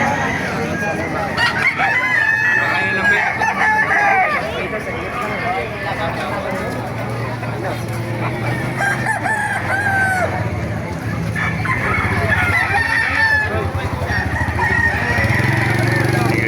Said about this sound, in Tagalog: Gaganda ng mga manok dito sa Baliwag.